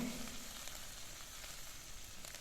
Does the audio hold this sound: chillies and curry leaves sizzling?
yes